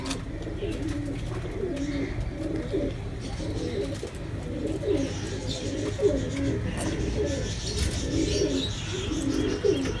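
A Kasuri pigeon chick coos in soft, repeated rounded phrases at close range, with faint chirps and a low background murmur.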